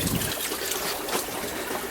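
Aquarium water drains from a 72-gallon bow front tank through a hose, a continuous close trickling and gurgling rush with no pauses.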